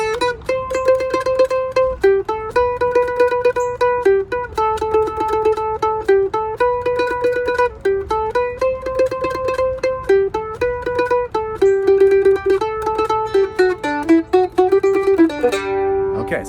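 A simple folk melody of This Land Is Your Land played on a keyboard or similar pitched instrument, steady clear notes moving mostly among three pitches in a relaxed rhythm, close and alone with no talking.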